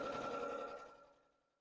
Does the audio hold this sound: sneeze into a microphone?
no